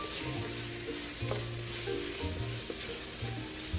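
Garlic paste sizzles and hisses in a hot pot of chili, a steady close frying crackle with light stirring scrapes.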